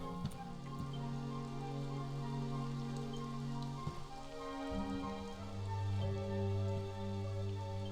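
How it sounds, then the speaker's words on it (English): Rain falls steadily in the video game Dragon Quest XI, a soft continuous patter laid under sustained tonal music, with no voices. "And now it's raining."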